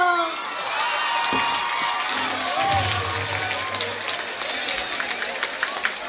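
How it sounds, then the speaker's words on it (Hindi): An audience at a college freshers day cheers and claps in a lively crowd, with shouts and whoops rising over a busy hall and voices talking through it. "तालियां"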